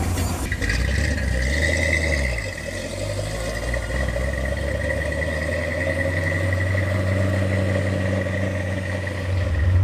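A 1966 Chevrolet Corvette C2 V8 drives along with a steady, close rumbling engine note and a sustained droning hum that holds its pitch after a brief dip early on, with no talking.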